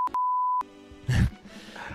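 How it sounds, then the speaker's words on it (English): A TASCAM Mixcast 4 mixer plays a loud, steady electronic bleep tone lasting about half a second, followed by a short low grunting vocal sound and faint background noise. "Let's put a bleep bleep."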